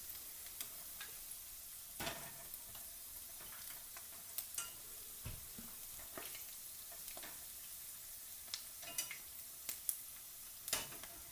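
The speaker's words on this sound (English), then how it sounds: "So you want to fit as many lumpias into the frying pan as possible at one time." Lumpias, Filipino egg rolls, fry in a frying pan, giving a steady soft sizzle broken by scattered crisp pops and crackles, with occasional light clicks of a utensil against the pan.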